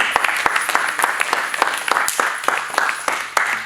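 Congregation applauding God at a church wedding anniversary and vow renewal ceremony, a lively, sustained round of many hands clapping with sharp individual claps standing out, and faint voices beneath.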